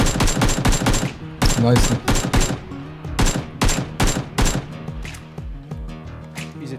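Loud automatic gunfire from a PUBG Battlegrounds match, repeated bursts of sharp rapid shots close up, with a short word spoken between them.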